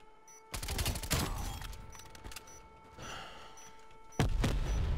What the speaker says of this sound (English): Oh, they have a sentry gun.